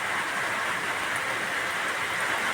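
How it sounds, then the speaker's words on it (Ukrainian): Heavy rain rustles on a roof as a steady, dense hiss that fills the whole stretch without pause or voices. "А на криші так шелестить, наче тут лівень такий йде."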